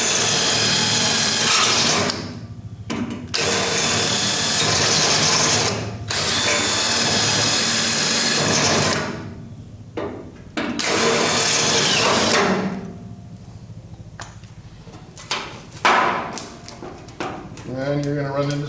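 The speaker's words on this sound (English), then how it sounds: "Drill the head off of it, then you can just pop the rivet through" A power drill whines in repeated bursts of several seconds each, drilling out rivet heads in a truck cab's metal panel, with short pauses between runs and brief talking in the gaps.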